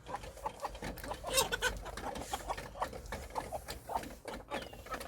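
Chickens clucking in a busy flock, overlapping short calls with farmyard rustle and scratching, steady and close.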